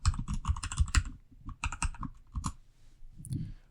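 Quick bursts of keystrokes on a computer keyboard as a password is typed, close and quiet, with a short pause and then a few more soft clicks.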